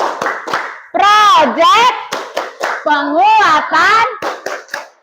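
A classroom of children performs the "Tepuk P5" clapping chant: sharp, rhythmic hand claps alternate with loud, close group chanting in a sing-song cadence, with voices rising and falling between bursts of clapping.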